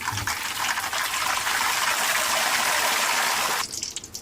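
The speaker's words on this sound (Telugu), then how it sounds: "ఇప్పుడు మనం సాల్ట్ కలుపుకున్న వాటర్ని మెల్లి ఇందులో కొద్దిగా వేపిస్తున్నాము." Salted water poured into a pan of hot fried potato chips gives a loud, steady rushing hiss for about three and a half seconds, then cuts off abruptly, leaving quieter background sound.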